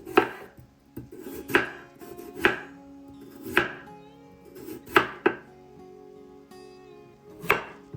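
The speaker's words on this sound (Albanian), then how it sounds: "Si fillim do të na duhen 4 patate mesatare, të cilat do t'i presim holl." A knife slices medium potatoes thinly on a board, sharp chopping strikes landing in an irregular rhythm with short pauses between them, close and clear with no talk.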